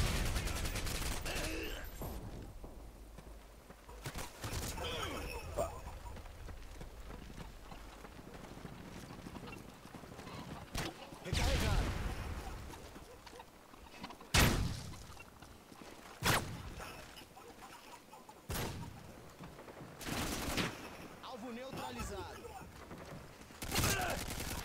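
Gunfire in Modern Warfare 2 cracks through brick walls in scattered sharp bursts, several loud single shots spaced irregularly amid background rumble, with a voice talking between them.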